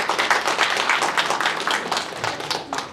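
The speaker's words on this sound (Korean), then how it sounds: "큰 박수로 환영하도록 하겠습니다." Dense applause from an audience at the founding ceremony of the Daegu chapter of a national civic alliance, steady and sustained, with many hands clapping close and loud throughout.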